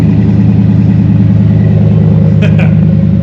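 A 6.2L GM truck engine with a new exhaust idles steadily and loudly close by, deep and rumbling, with a throaty low exhaust pulse and no change in pace.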